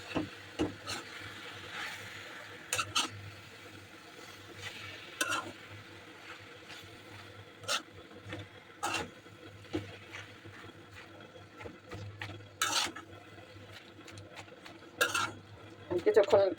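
Chalta (elephant apple) pickle frying in a pan with panch phoron and black salt, stirred and scraped with a spatula: irregular knocks and scrapes over a faint sizzle, with someone talking softly.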